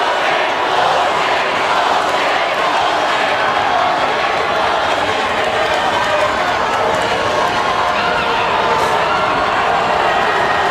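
Crowd noise at a boys basketball game, Taunton vs Bridgewater Raynham, a loud continuous roar of cheering and shouting from the stands that fills the whole stretch, with a commentator's voice mixed in.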